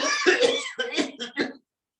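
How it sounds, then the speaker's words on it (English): A few people coughing during a yoga breathing exercise, one longer cough followed by three or four short quick coughs, fairly close and soft, then silence. "This time, you breathe in deeply and cough for 3 to 4 times."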